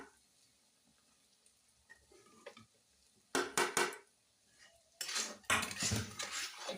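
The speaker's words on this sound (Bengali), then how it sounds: "একটু নেড়ে দিচ্ছি ভালো করে" Utensil clanking against a metal pan while food is stirred, quiet at first, then bursts of loud scraping and knocking in two clusters near the end.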